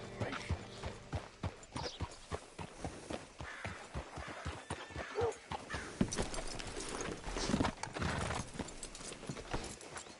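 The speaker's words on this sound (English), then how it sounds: "Hitch your horse up here." Horse hooves clip-clop steadily in Red Dead Redemption 2, a quick regular run of close, clear hoofbeats with some faint mechanical clatter and no speech.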